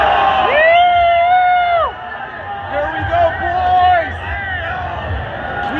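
Crowd cheering and shouting at a Philadelphia Eagles NFC Championship game, loud and close, with excited voices whooping over the roar that dips briefly and then swells again.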